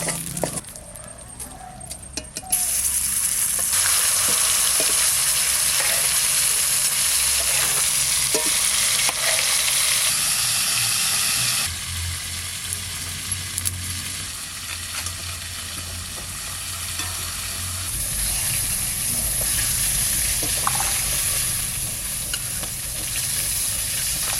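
River baush fish fry in hot oil with a loud, steady sizzling hiss that continues throughout, over occasional faint clinks and low background rumble.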